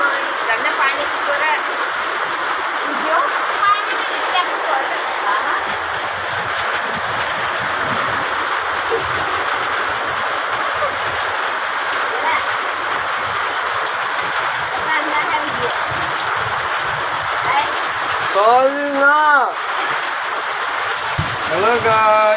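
Heavy rain with hail pours down at Gaipur while runoff flows across the fields, a dense unbroken roar throughout, with a voice talking over it.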